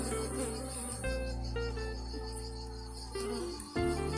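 Honeybees buzz around an open beehive during a drip-applied oxalic acid treatment against varroa, a close, continuous drone of many insects that rises and shifts in pitch as individual bees pass by.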